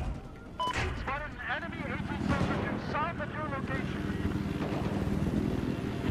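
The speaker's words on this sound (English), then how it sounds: "Chopper shooting us a lot there." Attack helicopter in a video game, a steady loud rotor drone with bursts of gunfire, heaviest during the opening seconds and fading into continuous engine rumble.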